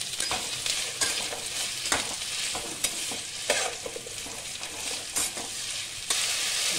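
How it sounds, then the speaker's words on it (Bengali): Cauliflower, beans and capsicum are stir-fried in a sizzling pan for chowmein, with a constant loud hiss and regular scraping strokes of the spatula repeating every second or so, close up. "দেখো একটু ফুলকপি দিচ্ছি, একটু বিনস, ক্যাপসিকাম দিচ্ছি। এগুলো একটু সব এবার নাড়াচাড়া করে নেব।"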